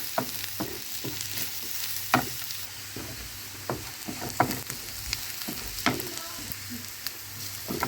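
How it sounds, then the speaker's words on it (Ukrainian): Onion and finely grated garlic sizzle quietly in a pan, a soft steady frying hiss broken by occasional scrapes and stirring clicks. "разом продовжую смажити одну хвилинку."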